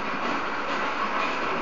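Steady, dense rumble of a railroad train rolling past at close range, continuous for the whole stretch with no voices.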